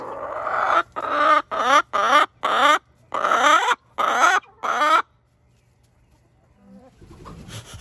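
Farm chickens on a winter morning make a run of loud, close squawks and clucks in about eight rapid bursts, followed by near silence and a brief rustle.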